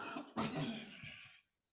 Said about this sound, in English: Oh, stop coughing